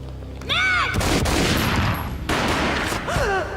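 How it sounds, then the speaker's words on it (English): Heavy gunfire in the Max Payne video game, loud booming shots in a dense burst over about two seconds, then another blast, close and dramatic with swooping slow-motion effects around it. "A gunshot boomed and she fell down in slow motion."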